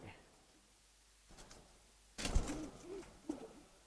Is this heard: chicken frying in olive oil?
no